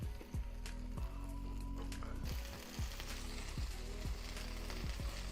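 A cheese-topped quesabirria taco sizzles in a pan with a continuous frying hiss, punctuated by repeated sharp clicks and taps of a utensil and a brief scraping flip partway through.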